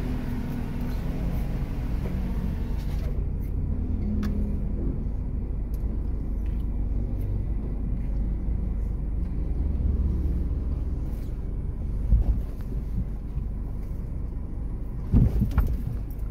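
Engine of a Suzuki car with a rough idling problem running on a road test, a steady low rumble throughout with brief louder bumps near the end.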